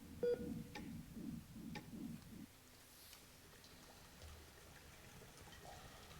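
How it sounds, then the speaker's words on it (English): Telephone dialing tones in the SCP: Secret Files video game, a quick run of about six evenly spaced beeps up close, then a quiet hum. "I managed to find a phone,"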